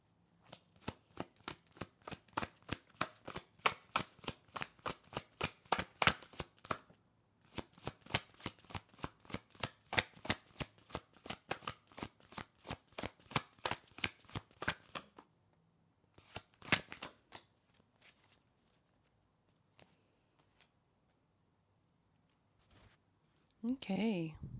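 Tarot cards are shuffled in a quick, steady riffle of crisp snaps for about fifteen seconds, then a few scattered soft card sounds follow, close and clear with no talking.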